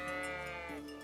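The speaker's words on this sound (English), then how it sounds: "Oh, sheep! Sheep!" A single sheep bleats close by in the game Kingdom Come: Deliverance, one short wavering call over quiet ambience.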